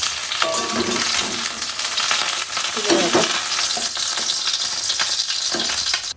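Vegetables fry in oil in a wok, a close, busy sizzle with scraping and stirring clatter running continuously throughout.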